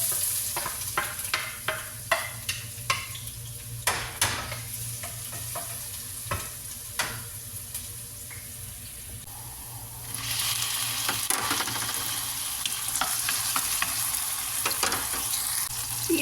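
Onion and garlic sauté in a pan for a lasagna topping, a steady sizzle running throughout with repeated sharp spatula scrapes and stirring clicks, the frying growing louder and denser toward the end.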